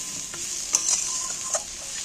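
Fish roe cooking in a pan with onion, capsicum and tomato being stirred, a soft sizzle with a few distinct scraping clinks of the spatula against the pan, close and fairly quiet.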